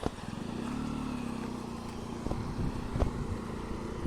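A motorbike engine hums steadily close by along a waterlogged road beside flooded fields, its low drone rising and falling slightly as it moves along.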